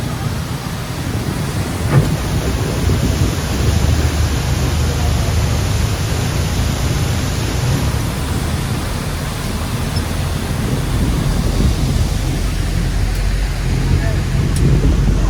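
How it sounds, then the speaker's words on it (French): A waterfall roaring close to a boat in Mauritius, a loud continuous wash of falling water that fills the whole scene without letup, with faint traces of voices beneath it. "regarde la cascade à l'arrière"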